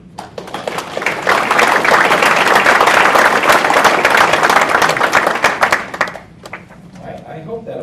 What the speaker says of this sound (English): I hope that applause created a sense of pride in you.